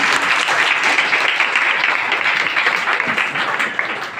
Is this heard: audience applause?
yes